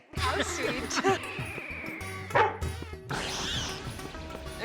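A dog barks and yips several times in bursts, close by, in a home, mixed with other voices and household noise.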